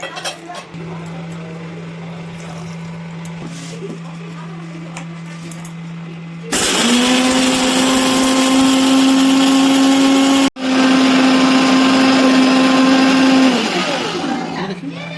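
A mixer grinder whirs loudly as it grinds mustard seeds, green chillies and a little water into a fine paste. A quieter hum comes first, then the motor surges to a loud, steady roar, stops briefly, and roars again.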